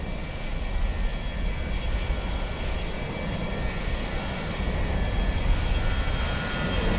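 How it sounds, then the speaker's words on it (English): A United 737 airliner taking off in a flight simulator game, a steady loud jet engine roar with a constant whine, swelling slightly toward the end, heard alone. "Looks like there is a couple of aircraft taking off there"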